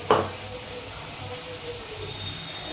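Cumin seeds and green peas hit hot oil for a Bengali matar paneer with a quick splattering burst, then settle into a soft, steady sizzle.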